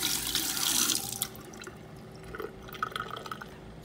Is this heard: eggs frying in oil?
no